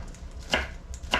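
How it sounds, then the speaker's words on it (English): A knife chops beet greens on a cutting board, two distinct close, crisp thuds about half a second apart over quiet kitchen background. "So chopping up those beet greens really small so that to make sure they cook."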